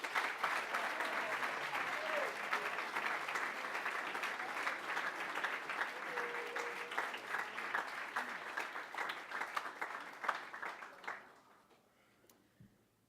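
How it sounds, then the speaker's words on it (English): Sustained audience applause for a student at a Cum Laude induction ceremony, steady crowd clapping for about ten seconds before tapering off into near silence, with faint voices underneath. "you may applaud after each name is read aloud"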